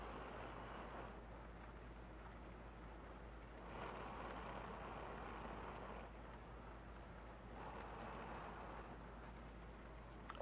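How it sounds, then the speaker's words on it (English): Heavy rain pours steadily outdoors in humid weather, a dense, continuous hiss that swells and eases in broad waves, with no voices. "it's pouring raining out"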